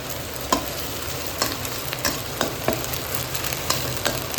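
Scrambled eggs being stir-fried in a pan for Indonesian fried rice with long beans: a steady sizzle of frying throughout, punctuated by regular scraping taps of a spatula against the pan about once every half second.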